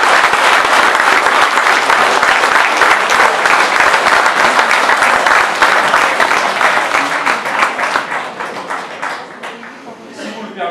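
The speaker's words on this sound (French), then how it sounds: "on va vraiment applaudir le Bossé en Provence" A large audience breaks into sustained applause at an official ceremony in Provence, loud and dense for most of its length, then thinning and fading toward the end as scattered claps trail off.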